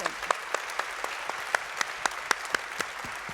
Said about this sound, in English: Let us now applaud this legendary hero, Shavash Karapetyan.